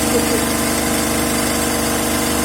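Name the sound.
DC compound motor running, driving three-phase alternator at 1500 RPM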